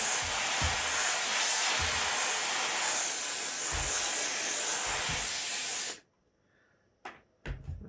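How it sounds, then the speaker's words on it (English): A steamer blasts a loud, steady hiss of steam onto a stiff hat hood being softened for blocking a 1940s percher hat, with faint low thumps underneath, then cuts off abruptly, leaving a few sharp handling knocks. "So I'm going to really steam it a lot because I want plenty of flexibility."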